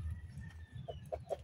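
Farm chickens clucking in short, close calls over low rumbling background noise, with no talk.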